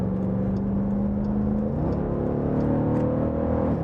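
A 2024 Dodge Durango SRT 392 accelerates to pass slow traffic on a backcountry road, its engine droning steadily, then the pitch steps up mid-run as it pulls harder, loud and close from inside the cabin.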